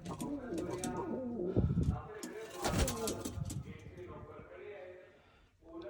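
A pigeon coos softly and repeatedly close by after landing on a loft, its low calls mixed with people talking in the foreground.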